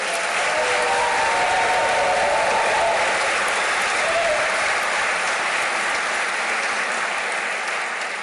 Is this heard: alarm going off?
no